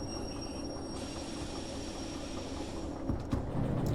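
The S060 small locomotive from Derail Valley, running with a steady rumbling rail drone, a faint high whine on top and a few clanks near the end, with no voices.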